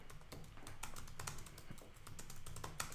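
Rapid, fairly even tapping on a computer keyboard while editing template text, continuous close clicks with small pauses and no talking.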